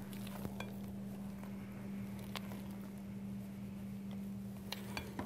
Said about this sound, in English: And we will stir this in.